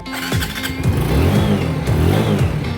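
A TVS RTR 160 V4 motorcycle, a 2021 model that had a faulty CDI, runs close by with a rough, buzzing engine note and a few rising revs, loud and steady with no talking.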